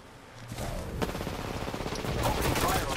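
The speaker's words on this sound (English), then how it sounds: "Opening fire on us. The enemies are shooting at me." Video-game enemy gunfire crackles in dense bursts and scattered single shots through a battle, fairly faint against background combat noise, with a voice speaking briefly.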